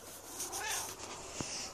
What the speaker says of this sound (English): Nope, not even the cat could get Cappy out of bed